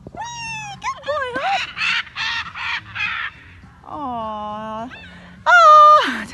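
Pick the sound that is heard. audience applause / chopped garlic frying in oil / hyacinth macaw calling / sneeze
hyacinth macaw calling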